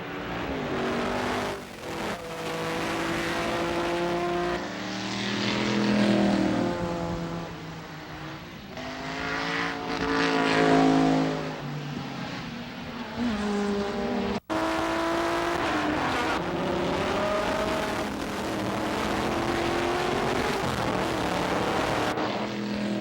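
A vintage race car roars past in a 1985 SVRA vintage race at Bahamas Speed Weeks, its engine note climbing and falling through gear changes, loud and close, with a second strong engine surge after a brief break.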